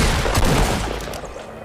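Dense, continuous shotgun blasts and gunfire in Fortnite, loud and close, with booming impacts blending into a sustained roar that fades slightly toward the end.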